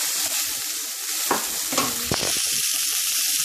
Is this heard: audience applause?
no